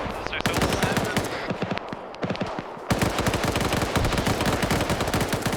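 Video game gunfire crackles in dense, rapid bursts of automatic and single shots, loud and nearly continuous, with a short lull before the firing picks up again.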